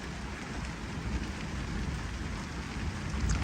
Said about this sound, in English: It's not booming thunder, it's rolling thunder